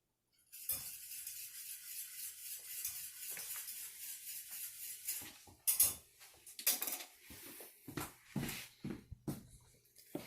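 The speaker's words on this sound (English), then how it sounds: "I'm going to jump over here and just stir my bechamel" A spoon stirs béchamel sauce in a pot for moussaka, a soft steady scraping and swishing, close and quiet, with occasional clinks against the pot's side.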